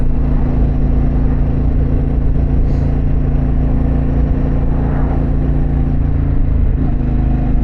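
Harley-Davidson Pan America motorcycle exhaust rumbles steadily and loudly while riding on the road, a continuous low engine drone with wind noise and no speech.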